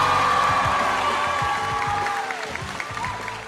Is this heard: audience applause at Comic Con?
yes